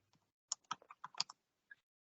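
Keys on a computer keyboard are tapped in a quick, uneven burst of about a dozen close, crisp clicks, then a short pause and a final keystroke, all heard without any speech.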